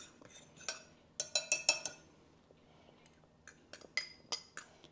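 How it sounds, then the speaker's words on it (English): Salt being stirred into tortilla dough mixture in a bowl makes light, quick clinks and scrapes of a utensil, in two short bursts separated by a brief quiet pause, close and fairly soft. "Actually, I'm going to stir that salt in a little bit."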